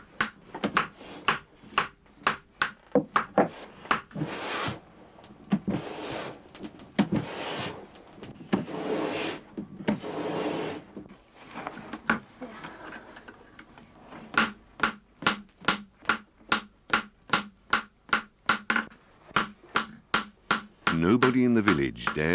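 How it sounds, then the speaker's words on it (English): Iron Age smith striking hot iron on a tiny anvil in a dark village forge, sharp ringing metallic blows in quick runs and pauses, with a stretch of scraping, rustling work noise in between. "The smith hammers the iron into shape on a tiny anvil."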